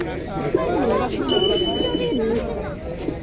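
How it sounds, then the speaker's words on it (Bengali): Giribaz pigeons coo at a busy open-air pigeon market, their low rolling calls close and continuous beneath steady crowd chatter and someone talking. "কবুতরগুলো অনেক সুন্দর লগে সব গিরিবাস কবুতর"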